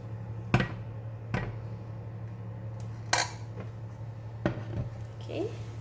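Cooked capsicum fried rice ingredients being lifted from a pan with utensils, several sharp clinks and scrapes of metal on the pan over a low steady hum.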